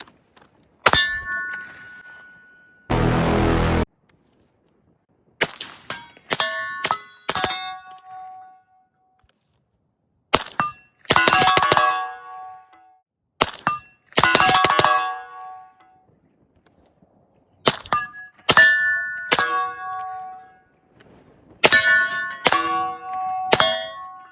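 Rapid suppressed rifle fire through a CMMG Zeroed suppressor, in a series of sharp bursts with pauses between strings, each followed by bright metallic ringing and clanging.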